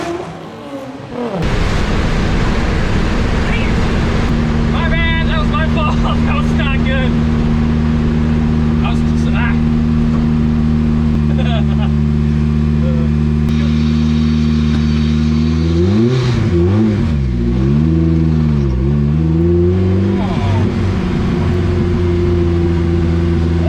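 A Honda-powered Beetle on an MR2 chassis, running slicks, launches with a loud sustained engine drone that climbs and dips through revs, with people talking over it.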